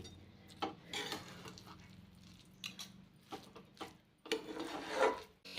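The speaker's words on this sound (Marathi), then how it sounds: "आता हलक्या हाताने आपल्याला थोडंसं परतून घ्यायचं आहे" Coconut rice cooked with jaggery and nutmeg is gently stirred in a pan, giving soft scraping and rasping strokes at close range with a few light clinks between quieter pauses.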